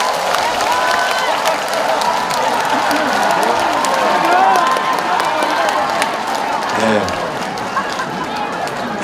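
Festival crowd at an outdoor cultural festival in Jincheon applauding and cheering, a sustained wash of clapping and crowd noise, with a voice speaking over it throughout.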